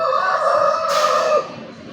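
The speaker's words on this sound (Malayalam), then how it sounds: "ഇതിനകത്ത് നിറച്ചും കോഴികളാണ്." A close, drawn-out chicken call from a basket full of chickens at a railway station, one loud squawking cry that lasts over a second and then cuts off.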